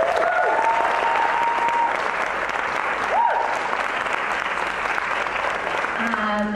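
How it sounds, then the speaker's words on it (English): An audience claps steadily to welcome guest Nana Ghana at an evening Q&A event, a full, even burst of applause with faint tonal sounds and a brief voice near the end. "Please give her a round of applause."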